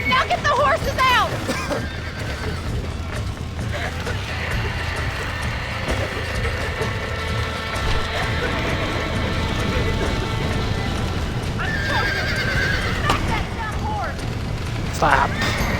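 Horses neighing and whinnying beside a train in Red Dead Redemption, several loud whinnies with hoof clatter and rail rumble, and a voice talking over parts of it.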